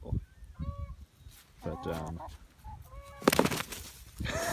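Chickens and a rooster on a farm give short clucks and honking squawks in scattered bursts, close by, while a person talks briefly between the calls.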